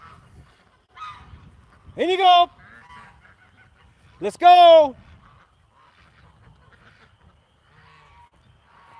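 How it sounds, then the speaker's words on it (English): Loud honking calls from farmyard fowl being herded into their pen in two bursts, close by, with a person calling and urging them along in between. "Okay, ducks, come on. In you go."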